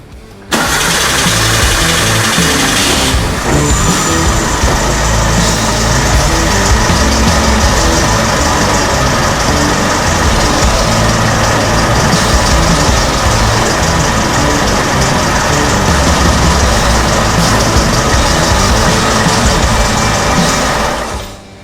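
A budget-build car engine that struggles to keep running fires up and then idles loudly and steadily at close range, held alive with light pressure on the clutch and running continuously for about twenty seconds with no talk.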